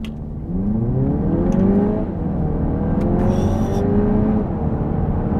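An Audi TT RS accelerates hard, its tuned engine rising in pitch through a gear change and pulling strongly again. The sound is close and steady, with a brief clicking and whoosh partway through.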